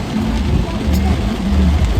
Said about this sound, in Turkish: Öf, öf, yağmura bak.